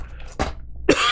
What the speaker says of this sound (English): I'm not editing out any of the coughing this time.